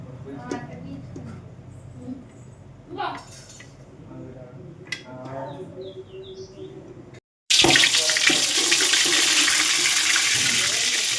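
A voice speaks over faint kitchen clatter, then a sudden loud rush of cold water pours steadily over cooked noodles for several seconds.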